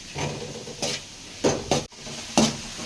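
Onions sautéing in a pan for mutton biryani, heard as a soft background sizzle broken by several clanking scrapes of a spoon stirring against the metal pan, close by and without talk.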